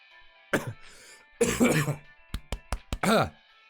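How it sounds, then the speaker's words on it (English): A person clears their throat several times, a few rough bursts followed by short sharp hacks, close and loud with quiet gaps between. "Sorry, clearing my throat."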